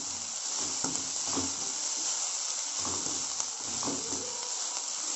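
Slit green chillies sizzle and hiss in hot oil in a pan as they are stirred for a cauliflower masala, with steady frying noise and a few soft scraping strokes of the spoon.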